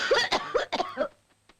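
A harsh, hacking cough bursts out in several quick fits close by, then trails off into quiet.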